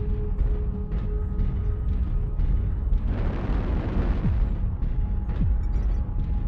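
Explosion of a destroyed mech in the Mechwarrior Online video game, a broad roaring burst swelling midway through a continuous dense rumble of battle noise, with no talk over it.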